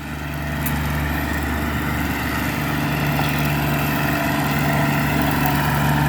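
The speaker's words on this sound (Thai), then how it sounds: "ต่อพ่วงกับแท็กเตอร์ ที่มันเป็น ซีรีเอลนะครับ ตอนนี้กะตัดหญ้าอยู่" A tractor engine drones steadily with a 1.2-metre tractor-mounted mower cutting grass in front of a showroom, a loud continuous rumble with a whirring tone and no voices.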